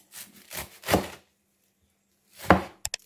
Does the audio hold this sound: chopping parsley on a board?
yes